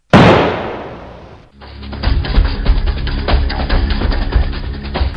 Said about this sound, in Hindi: ये गोली की आवाज थी ना?